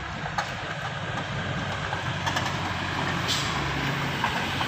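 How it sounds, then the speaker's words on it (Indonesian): Heavy trucks labor on a hill slick with spilled crude palm oil, engines droning low and steady with a hiss of air brakes, the whole scene close, loud and continuous without talk. "terakhirnya para truk menggasing"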